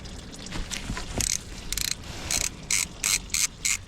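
A hand ratchet working on bolts on a van, its rapid clicking pawl heard in several short bursts, close and loud, with some clanking of tools in between and no speech.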